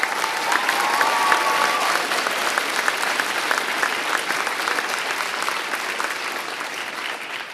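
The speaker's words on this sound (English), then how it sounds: "a big round of applause for Hampton's new firefighters" A large audience applauds loudly and continuously at a fire academy graduation, dense clapping with a faint crowd murmur, slowly easing off toward the end.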